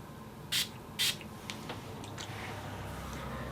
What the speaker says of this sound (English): I'm going to spray it with the Photo Focus setting spray.